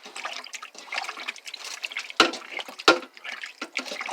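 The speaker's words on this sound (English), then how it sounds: "And then I will rinse it with clean water." Beef being rinsed under clean running water, a steady splashing and trickling wash with a couple of sharper louder splashes partway through, close by with no talk.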